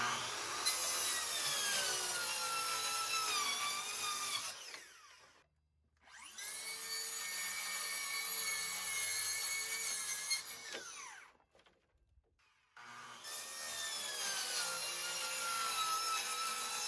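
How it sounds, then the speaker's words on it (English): Makita 5007MGA 15 amp corded circular saw cutting wood: three long, loud screaming rips through the board, each four to five seconds, separated by brief drops as the motor winds down, no talk. "let's test out the FlexVolt saw against my 15 amp quarter Makita. This is the 5007 MGA."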